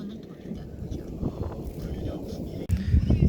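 Wind gusting across an open farm field where vinyl mulch is being laid over pepper-bed ridges on a cold day, a steady low rumble of microphone buffeting that swells sharply near the end.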